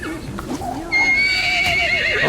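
Equus horse in the Ark Survival Evolved game letting out a loud, close neigh, a wavering whinny that rises and trails off over about two seconds, with faint clip-clop hooves beneath.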